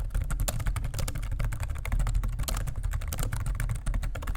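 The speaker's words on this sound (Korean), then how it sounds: "키보드 타건감은 아주 나쁜 수준은 아닙니다." Steady, fast typing on a tablet's soft suede-covered detachable keyboard with a slightly cheap plastic feel, close-up clicks and taps in a continuous dense patter with no talking.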